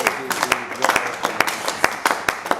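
A church congregation claps steadily in rhythm while acclaiming Jesus, crisp hand claps repeating about twice a second with voices faintly underneath.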